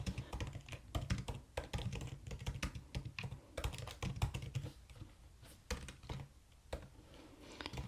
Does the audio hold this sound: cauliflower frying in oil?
no